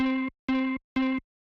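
Three identical sustained synth notes, each about a third of a second, bright and buzzy with rich overtones, separated by short silences.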